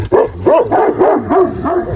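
A dog barks repeatedly in quick succession, about five or six close, loud barks with a whiny edge.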